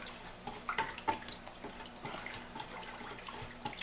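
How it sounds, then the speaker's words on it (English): Instant iced tea is poured into a jug to make homemade wine, giving an uneven, splashy, trickling pour with soft patters and a few louder bursts, without speech. "I'm going to use this whole thing, just pour it in there."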